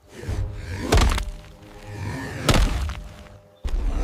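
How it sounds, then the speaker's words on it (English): A stone club strikes a wild boar's ribs in a prehistoric fight, two heavy cracking thuds about a second and a half apart, then a sudden boom-like hit, all loud over a rumbling background. "The stone club smashed against her ribs with a cracking thud."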